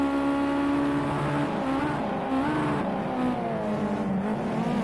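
Race car braking hard in an eSports sim racing game, a loud engine tone dropping through downshifts with stepped pitch changes and faint tire scrub, steady and close with no talk.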